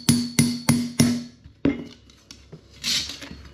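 Hammer blows on a stainless steel trim moulding from a 1969 MGB, backed by a small aluminium tool: four sharp metallic taps in a steady rhythm, a pause, then a single louder strike and a few lighter knocks, close and clear.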